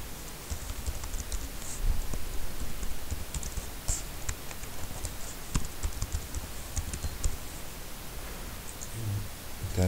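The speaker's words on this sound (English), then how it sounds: "Type in your password." Computer keyboard keys tapped while a password is entered, quick irregular light clicks in short bursts over a soft background hiss, fairly quiet and close, with no talking.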